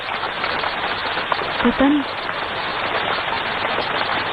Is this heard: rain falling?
yes